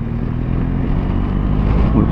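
BMW GS1200 Adventure motorcycle in sport mode, engine droning steadily and loudly with a slight rise in pitch as it accelerates, heavy wind rumble throughout.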